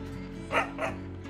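A dog barks in the video game Bloomtown: A Different Story, two short close bow-wow barks about a quarter second apart over a steady low hum of game music.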